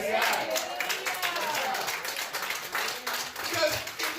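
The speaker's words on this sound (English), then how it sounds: "I need some more hand claps" A crowd claps hands in scattered, uneven bursts beneath an impassioned speaking voice, with the clapping moderately loud and the talk running over most of it.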